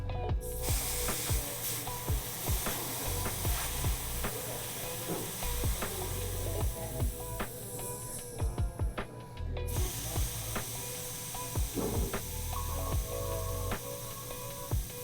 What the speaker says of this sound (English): Turning over the valve cap itself will allow you to just push it in and then allow the air to come out.